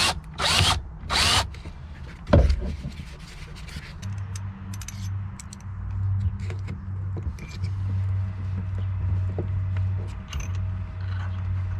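A drill bores a recess for a washer in a Delta kayak seat under repair: a few sharp knocks and short bursts at first, then a steady, close motor whine that runs for several seconds with slight dips in pitch.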